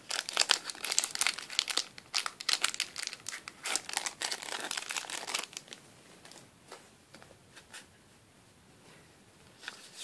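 Crinkly plastic wrapper of a Pokémon card tripack being torn open and handled, with dense close crackling bursts for the first five seconds, then sparser, quieter rustles trailing off.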